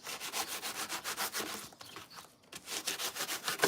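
A bendable saw blade cuts through wood in quick rhythmic back-and-forth rasping strokes, close by. The strokes break off for a moment midway, then resume at the same pace.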